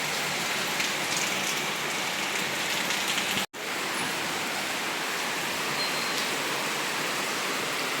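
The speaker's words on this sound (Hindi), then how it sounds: "सुबह सुबह इतनी ज़्यादा बारिश हो रही है यहाँ पर में।" Dense, steady downpour of heavy rain hissing continuously, with a brief cut partway through, and no voices.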